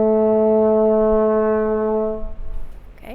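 French horn holds a single low E, the concert pitch written on the bottom line of the treble staff, as a steady, full note for about two seconds before it is released into a faint shuffle.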